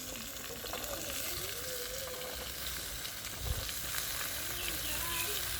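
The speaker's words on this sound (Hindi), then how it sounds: "देखियो अखन हम भूज रही हन राजमा" Rajma beans and onion frying in a pan on a home stove, a steady broadband sizzle running throughout with occasional stirring scrapes and faint background voices.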